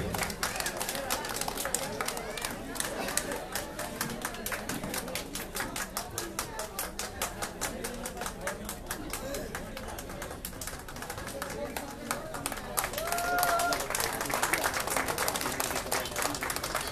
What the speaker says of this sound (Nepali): कृपया जोरदार तालीले उहाँलाई सम्मान गरे